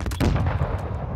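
Video game gunfire in a loud, dense burst of several rapid shots with a booming low end, up close, with no talk over it.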